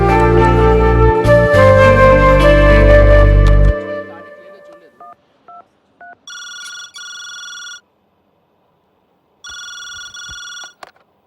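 A telephone rings in repeated bursts, heard loud and close, after a stretch of loud dramatic music. The rings come in two clear sets separated by a short silence.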